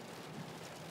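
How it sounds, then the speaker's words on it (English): Heavy rain mixed with hail in an East Yorkshire thunderstorm makes a dense, even roar of drops, faint and continuous with a low rumble beneath. "rain's getting a lot heavier now, the mixture of hail in there as well"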